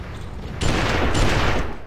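Gunshots in the Western-themed video game GUN: a loud, close blast, then a second shot about half a second later, each with a booming tail and no talk over them.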